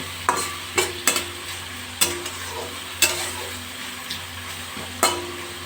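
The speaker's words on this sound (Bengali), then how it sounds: "কুমড়োটা ভাজা ভাজা হতে থাকবে এইভাবে" Sweet pumpkin pieces fry in oil in a pan on a gas stove, a soft continuous sizzle punctuated by a handful of spaced utensil knocks and scrapes against the pan, nearby and moderately loud, with no voices.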